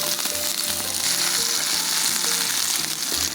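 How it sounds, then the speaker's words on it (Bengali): Chopped onion and garlic hit hot mustard oil with black mustard seeds for a mustard chicken curry, giving a loud, continuous close sizzle with soft stirring underneath and no voices. "এরপরে দিব আমি একটু পেঁয়াজ কুচি রসুন কুচি"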